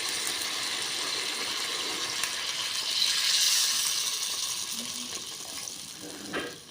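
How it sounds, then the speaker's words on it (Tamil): Tamarind water pours steadily into a cooking pot for a tender-mango kuzhambu, a continuous splashing gush that swells in the middle and fades, with a small clink near the end. "இவ்வளோ புளி தண்ணியை சேர்த்துக்கலாம்"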